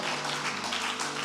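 Congregation at a church service applauding and cheering in praise, a steady dense wash of clapping sustained throughout without pause.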